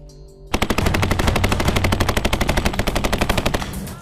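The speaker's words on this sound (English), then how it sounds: "candidates must prove their grit under the added stress of simulated gunfire and smoke grenades" Simulated gunfire during Navy special operations training erupts as a long, rapid, evenly spaced automatic burst, loud and close, after a short quiet lead-in.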